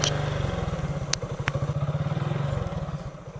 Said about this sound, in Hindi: आपको बाइक का आवाज़ सुनाई दे रहा है नहीं दे रहा है